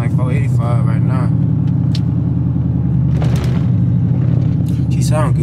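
A car engine idles with a steady low rumble throughout, while people talk over it in the foreground.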